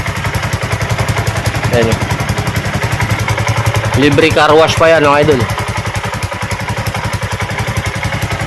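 A Honda TMX155 motorcycle engine idles steadily right after an overhaul, a quiet, even putter running throughout while someone talks briefly over it.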